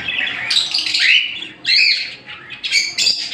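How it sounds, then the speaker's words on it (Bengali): A pair of cockatiels gives loud, close squawking calls in short bursts with brief pauses between them. "এই আমার কাছে এখানে এক পেয়ার কোকাটেল রয়েছে"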